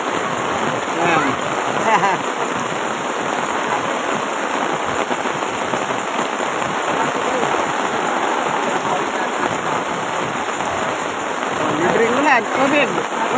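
Heavy rain pours steadily, a dense hiss of drops pattering on surfaces from start to finish, with a few louder splashes toward the end.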